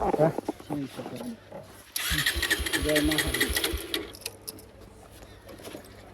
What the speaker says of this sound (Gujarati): બાઈક ચાલુ નહીં થતું મિત્રો